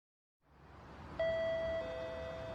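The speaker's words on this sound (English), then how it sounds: "On the next day, someone rang the doorbell." A single doorbell chime rings out in a quiet indoor room, one clear bright tone stepping down to a second sustained note that keeps ringing, with a soft rustle before it.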